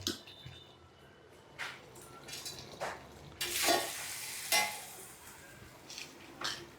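Rice is added to a pot for biryani and stirred, giving soft scraping and sizzling bursts with occasional spoon clinks against the pot at close range.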